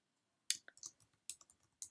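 Typing on a computer keyboard to enter a name into embroidery font software: a handful of sharp, close key clicks in two quick bursts, faint overall, with no talk.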